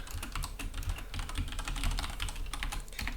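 Code being typed on a computer keyboard, a rapid, close run of clicking keystrokes with uneven rhythm and no talking.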